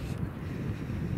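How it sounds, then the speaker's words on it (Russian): Steady, heavy wind buffeting a microphone, a constant low rumble with gusty roar filling the whole clip. "Прям уже капец какой тут ветер."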